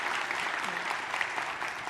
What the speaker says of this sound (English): a round of applause to our 4 speakers